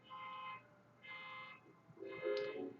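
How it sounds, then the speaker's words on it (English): A car alarm sounds at a distance in three separate bursts of steady tones, faint and with no talk. "Look at even we got a car alarm."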